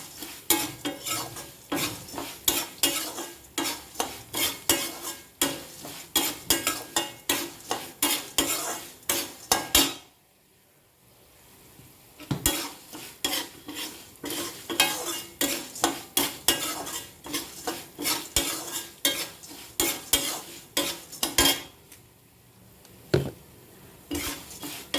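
A spoon scrapes and clatters in a pan while a mango and coconut chutney tempering with asafoetida fries, with repeated rhythmic stirring strokes over a soft sizzle and a short quieter pause midway.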